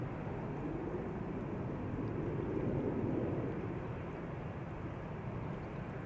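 A KLM Embraer 190 airliner at Schiphol Airport gives a steady, distant broadband roar that swells gently mid-clip and then holds, with no voices over it.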